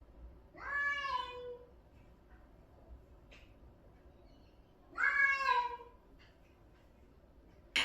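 A cat meowing while scratching at a door, giving two long, drawn-out meows several seconds apart, close and clear, with quiet pauses and faint scraping between them.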